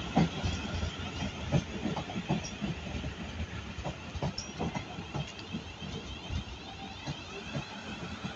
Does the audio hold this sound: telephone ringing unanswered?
no